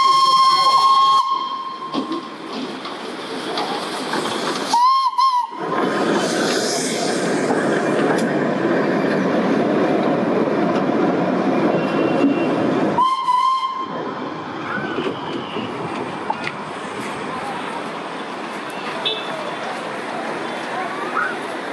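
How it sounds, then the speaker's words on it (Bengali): The Darjeeling toy train, a steam railway, passes around the Batasia Loop spiral track. A loud, continuous hiss of steam and rolling wagons is broken by sharp whistle blasts near the start and midway, with faint voices in the background. "ট্রেন এখান দিয়ে ঘুরে ওদিক দিয়ে যাচ্ছে আমার মনে হয়।"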